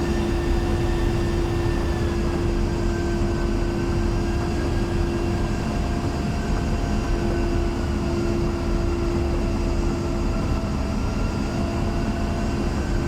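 An A-10 jet taxiing in a flight simulator game gives a continuous, loud turbofan drone with a steady high whine layered over deep rumble, unchanging throughout.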